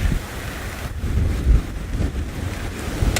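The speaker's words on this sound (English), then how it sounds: "We are so lucky because the wind just started to blow." Wind blows hard across a microphone at an African hyena den, a loud, continuous rumbling buffet with gusts swelling and easing, and no voices.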